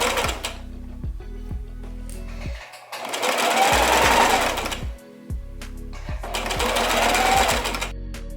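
Sewing machine stitching a T-shirt neckband in rapid bursts of loud mechanical chatter, separated by short pauses and low thumps as the fabric is adjusted.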